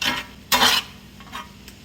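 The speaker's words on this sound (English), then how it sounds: "I'm gonna stir it just a minute" Stirring homemade queso cheese dip with jalapenos in a pot: a brief scrape at the start, then a louder scraping clatter of the spoon against the pot, followed by fainter taps, close up.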